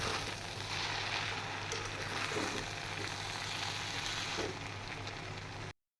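Chicken chow mein frying in a pan gives off a steady, dense sizzle that crackles continuously and evenly with no voices, cutting off abruptly at the end.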